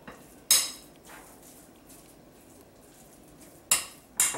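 A utensil stirs tuna paste in a bowl, giving a few sharp clinks and scrapes against the bowl, two at the start and two near the end, with quiet pauses between.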